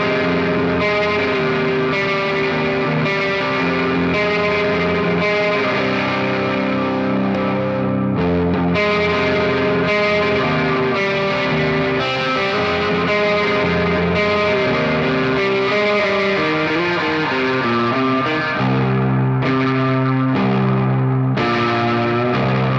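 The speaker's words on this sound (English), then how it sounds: "if we reverse them we end up getting a really dirty reverb sound" A guitar runs through a boost pedal placed after a Tides reverb pedal on an alt/post-rock/metalcore pedalboard. It gives a dense, distorted, washy reverb tone, with sustained chords and notes ringing loud and continuous throughout.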